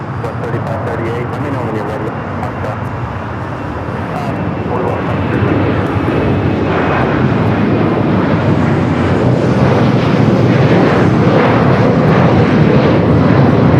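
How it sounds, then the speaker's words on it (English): A Delta Air Lines Boeing 737-900ER departs LAX for Indianapolis, its jet roar building from a strong rumble into a louder, fuller sustained blast, with a voice talking over it and some wind buffeting. "Delta Airlines 909 taking off to Indianapolis on the 737-900ER."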